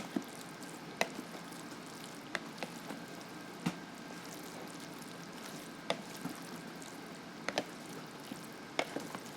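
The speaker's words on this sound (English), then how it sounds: "And just give it a stir" Food stirred in a hot pan, a steady soft sizzle running throughout with occasional sharp taps of the utensil against the pan, fairly quiet.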